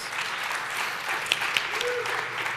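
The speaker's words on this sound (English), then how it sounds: "Big round of applause" Audience applause at a hackathon finalist presentation, a moderate wash of clapping from a seated crowd with a few sharper individual claps standing out.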